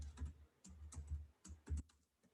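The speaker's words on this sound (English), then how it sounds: "And I'm typing that in" Quiet typing on a computer keyboard, a soft irregular patter of key presses in small clusters, close and alone.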